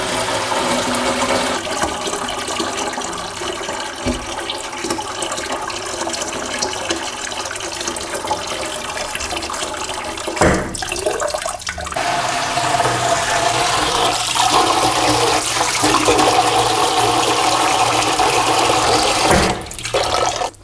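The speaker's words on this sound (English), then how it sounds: "So I'm just going to fill or half fill these pots up with water and put them on to simmer." Tap water runs steadily into pots being half filled for simmering onion skins in home natural dyeing, a continuous close rushing stream with brief clunks of pots shifting partway through, no talking.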